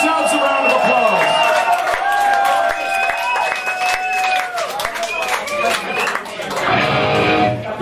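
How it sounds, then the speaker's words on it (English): Loud live concert crowd at a Hamburg club show, cheering, whooping and clapping steadily for several seconds with voices mixed into the dense roar. "Give yourselves a round of applause."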